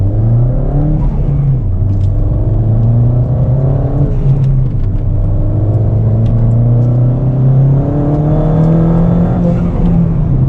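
A small car's engine revs and accelerates repeatedly, the pitch climbing and dropping through gear changes, loud and close.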